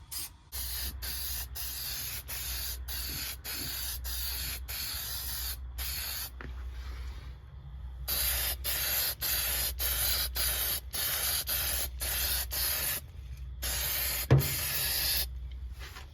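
Bed liner coating sprayed onto the rusted floor of a 1966 Kaiser Jeep Gladiator, heard as a long series of short, rhythmic hissing bursts over a steady low compressor hum, with a brief pause in the middle.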